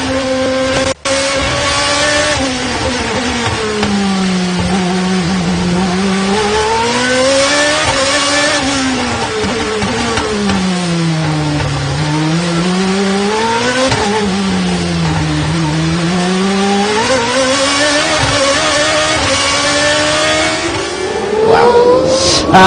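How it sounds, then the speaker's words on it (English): Formula 1 car engine with Johnny Cecotto aboard during a race, loud and continuous for the whole stretch, pitch rising and falling in repeated sweeps through gear changes, no talk over it. "we ride back on board now with Johnny Cecotto. Let's enjoy this ride with him."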